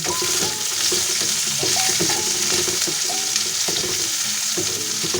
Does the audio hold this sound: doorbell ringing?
no